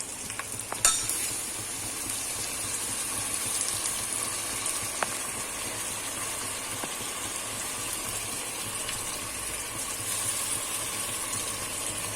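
Ground spice paste with fennel frying and being stirred in a pan for Tamil Nadu style biryani, a continuous steady sizzle with occasional scraping and clicks of the spoon, close up and without talk.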